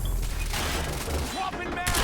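Rapid bursts of gunfire in the game Quantum Break, loud and close, mixed with booming impacts and combat noise throughout.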